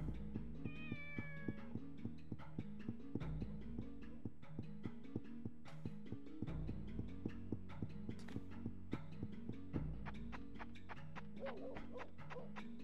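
A cat meows in the game Shenmue, a thin rising cry near the start over steady game music with rhythmic footsteps or clip-clop sounds running throughout.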